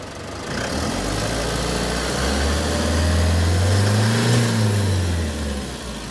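Isuzu Travis diesel engine with a fuel rail sensor fault idling steadily up close, a low continuous rumble that swells slightly in pitch midway before settling back, with no talk.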